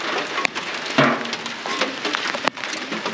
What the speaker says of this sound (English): except it's hailing now.